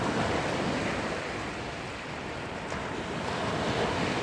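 Sea waves roll in at a beach near Samet island, a steady, loud wash of surf with wind noise across the microphone and no talk.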